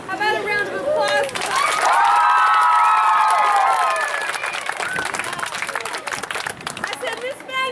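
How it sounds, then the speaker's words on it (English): Audience at a school ribbon-cutting and dedication ceremony breaks into loud cheering and applause, with children's shrill shouts rising over steady clapping before the noise tapers into scattered claps and chatter. "How about a round of applause?"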